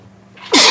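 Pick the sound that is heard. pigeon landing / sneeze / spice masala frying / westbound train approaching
sneeze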